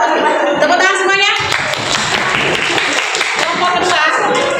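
A classroom claps after a student group's presentation, the close, busy clapping mixed with voices chattering and calling out over it.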